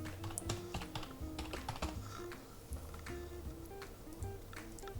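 Rapid typing on a computer keyboard while entering a label into GeoGebra, with steady close keystrokes in irregular bursts and no talking.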